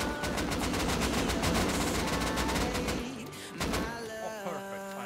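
Video game gunfire in a dense burst of rapid automatic shots, loud and close, that breaks off after about three seconds into scattered thuds and electronic game tones.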